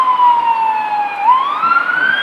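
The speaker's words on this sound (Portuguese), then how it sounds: "Aí tá passando a sirene aí de uma ambulância." An ambulance siren passes along a street outdoors, loud and sustained with a wailing pitch that dips then rises, with no talking over it.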